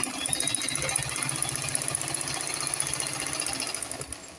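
A sewing machine stitches lined skirt fabric with a rapid, even mechanical chatter that runs steadily and close for several seconds, then slows and stops at the end.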